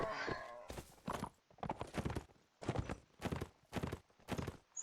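Horse hooves clip-clop in Mount and Blade, a medieval combat game, in a rapid series of close, loud beats with short gaps between them.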